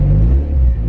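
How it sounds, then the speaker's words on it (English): A lifted Mazda MX5 with a new exhaust tip and rear muffler revs once, a loud, close, deep engine rumble that swells and holds steady through the short burst. "Give it a little rev."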